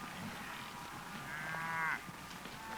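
A Hereford bull lets out a drawn-out moo at a distance, rising and holding for a moment before fading, over faint outdoor background noise.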